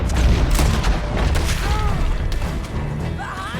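Gunfire in a Red Dead Redemption 2 shootout at Beaver Hollow, a dense barrage of booming shots and bursts over continuous battle noise, with voices shouting under the clatter.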